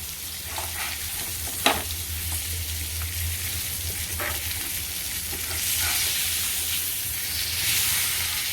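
Stuffed masala pomfret fries in a pan with a constant close sizzle and spitting oil, a single clatter near the start and light scrapes, no voices.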